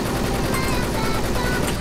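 Rapid automatic gunfire in a shooting video game, a dense, continuous burst of loud shots with no pauses, filling the short stretch.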